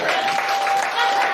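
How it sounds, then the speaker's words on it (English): Evening crowd applauding a keyboard player introduced for a set, a short burst of dense, steady clapping heard close and fairly loud. "Big round of applause for Samo."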